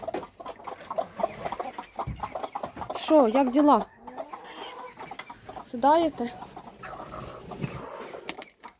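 Broody hens cluck and murmur in a coop, with several birds packed into one nest and one call rising louder midway, under intermittent close speech.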